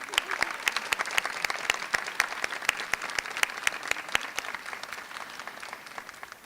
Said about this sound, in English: give a round of applause for their family and friends who come today to celebrate their achievements